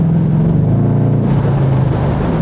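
A Lexus SC 430 V8 engine drones steadily in a tunnel, a loud continuous low rumble that shifts pitch partway through as the revs change, with no talk over it.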